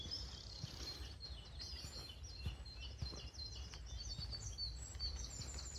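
Birds sing and chirp continuously in the morning beside Rudyard Lake, at a moderate distance, many high calls overlapping against steady outdoor background noise.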